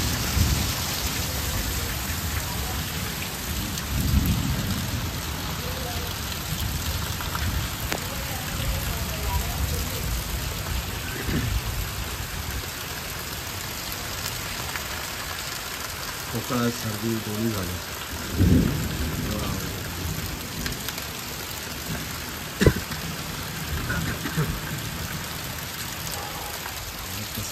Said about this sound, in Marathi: चारी बाजूनी पाऊस भरलाय